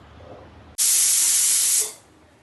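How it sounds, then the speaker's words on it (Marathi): A pressure cooker whistle on a gas stove, steaming rice papad, bursts out suddenly as a loud, sharp steam hiss lasting about a second, then fades off, with faint kitchen quiet before and after. "आता कुकरला 3 शिट्ट्या काढायच्या."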